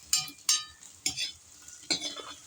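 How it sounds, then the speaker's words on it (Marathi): Mushroom curry cooking on a wood-fired clay stove is stirred in bursts, with four quick scraping, sizzling strokes spaced unevenly, close and fairly faint against a quiet background. "सो आपल्याला हे छान ना हलवून घ्यावं लागेल नाही तर मग करपून जाणार"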